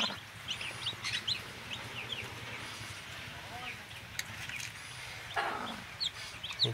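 A brooding hen sits on her eggs while chicks hatch on a backyard farm in El Salvador, giving soft, scattered clucks and calls over a faint background hum, with occasional quiet voices nearby.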